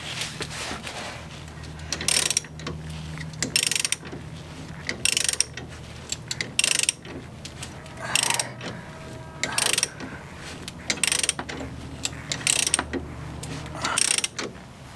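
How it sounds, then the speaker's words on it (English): A ball joint removal tool is cranked in by hand, producing repeated bursts of ratcheting mechanical clicks in an irregular rhythm with short pauses between turns, close and fairly loud, with no talking. "I'm going to try to crank it in there by hand."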